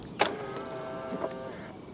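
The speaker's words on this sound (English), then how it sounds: "To lock the car, press the indented area on the driver's side door handle." A 2025 Proton e.MAS 7 electric car locks from its driver's door handle: a sharp click, then a soft motor whir, and a second click about a second later, all quiet and close.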